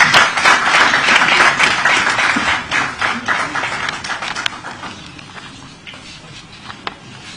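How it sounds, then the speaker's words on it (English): A crowd applauds at a National Assembly committee retreat as a speaker steps forward. The clapping is loud at first and gradually thins and fades over several seconds, with some voices under it. "Let's give him a round of applause as he steps forward."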